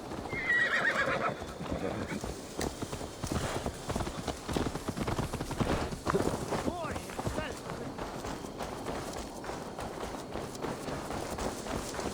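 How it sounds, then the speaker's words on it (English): Horse hooves clip-clop steadily through a scene in Assassin's Creed Valhalla, with whinnies and neighs mixed in, carried along under continuous game dialogue and ambient sound. "Let's return the horse."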